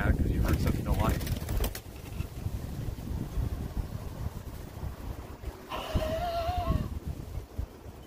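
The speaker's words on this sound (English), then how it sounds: "It's literally a bird." A bird coos a few times amid steady outdoor background noise, with voices talking faintly nearby.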